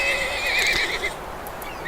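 A video-game horse whinnies loudly in a high, wavering neigh that fades out, with a faint steady background hum and no speech.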